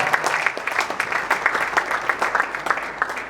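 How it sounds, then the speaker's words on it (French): A church audience at a book launch ceremony claps steadily and densely, a full room of hands beating without a break, loud and close. "Pouvons-nous acclamer pour le roi de gloire."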